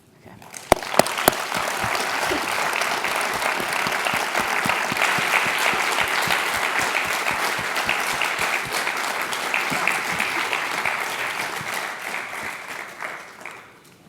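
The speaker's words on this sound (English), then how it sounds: "Can we have another round of applause for Dr. Ben Santer?" Applause from a lecture audience for Dr. Ben Santer at a memorial lecture, dense crowd clapping with a few sharp close claps at the start, swelling to a full steady roar before gradually thinning and fading near the end.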